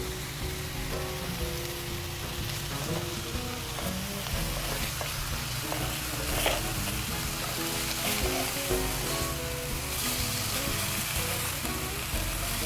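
Breaded chicken or eggplant cutlets, lightly coated in breadcrumbs, fry in a pan with a steady, dense sizzle that holds level throughout, close and continuous with no talking.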